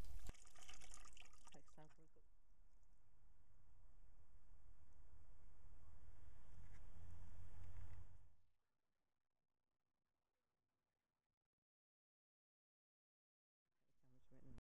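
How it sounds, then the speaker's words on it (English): Water sloshing and trickling as pit fill is washed by hand panning for small copper fragments, a continuous wet swirl that cuts off abruptly into silence before a brief return at the end. "The remaining fill of the pit is washed to check for smaller fragments of copper metal using a simple panning"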